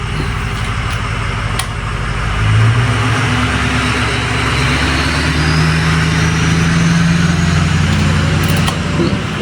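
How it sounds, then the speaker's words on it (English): A 2017 GMC Yukon's engine idles with a steady low rumble heard from outside the truck, close and continuous, a slight swell in level midway and no voices. "my truck sounds pretty good. I never get to hear it from the outside."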